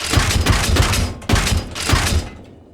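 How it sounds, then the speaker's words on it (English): Gunfire aimed at soldiers in the military game ARMA Reforger: a rapid series of sharp thudding shots in two quick bursts, then a decaying tail, loud and close, with no talk. "So let me go ahead and shoot at them."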